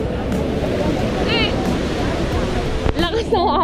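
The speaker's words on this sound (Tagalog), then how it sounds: "Lakas ng alon guys" Strong ocean waves crash and wash on Helicopter Beach in El Nido, Palawan, a loud, continuous surf roar with voices talking over it.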